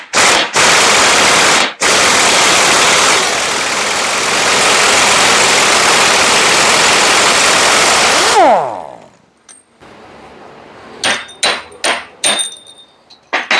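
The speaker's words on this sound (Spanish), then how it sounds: "Ahora, con ayuda de la pistola neumática," A pneumatic impact wrench hammers a nut tight on a Fuller gear-shift lever bushing of a Super Brigadier truck: a loud, continuous rattling burst for about eight seconds, briefly interrupted once, then dying away into scattered clanks and taps of nearby metal.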